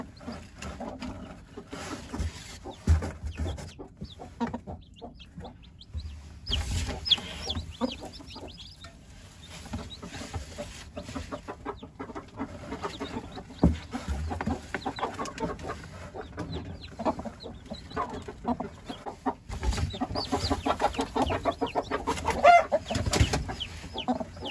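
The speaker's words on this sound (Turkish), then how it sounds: "Bu tavuğun altına 8 tane civciv koyduk." Hen with eight chicks placed beneath her clucks in a poultry setting, soft irregular clucks and rustling scattered throughout at moderate distance, no talk.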